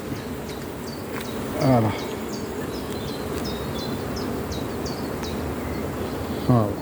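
Honey bees hum in a dense, steady swarm around an opened, crowded beehive during a colony inspection, with occasional brief voices and faint bird chirps over the constant buzz.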